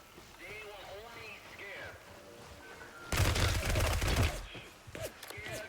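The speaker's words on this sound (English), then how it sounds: "I hear more shots." Bursts of gunfire in the military shooter Gray Zone Warfare, a dense rapid volley that erupts after a stretch of quieter talk and then fades into scattered further shots.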